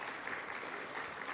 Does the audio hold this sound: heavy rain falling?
no